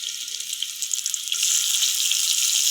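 Dried red chilies frying in hot oil, a bright continuous crackling sizzle close by that grows fuller and louder halfway through, with no voices.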